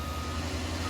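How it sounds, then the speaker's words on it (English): Truck reversing beeps in Farming Simulator 19, a brief continuous electronic tone from a vehicle backing up over dense engine and ambient noise. "the trucks and the digger and stuff across the road beeping away when they're moving"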